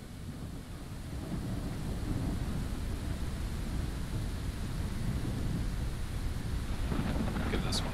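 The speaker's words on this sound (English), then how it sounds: "and thunderstorm" Steady heavy rain with low rumbling storm noise throughout from a Game Master Engine thunderstorm weather effect, swelling slightly after the first second, with a faint crackle near the end.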